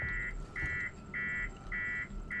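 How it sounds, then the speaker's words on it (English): Alarm in the video game Alien Isolation: a repeating two-tone electronic beep pulsing in regular bursts about every half second, moderately loud over a low background hum. "This alarm is great."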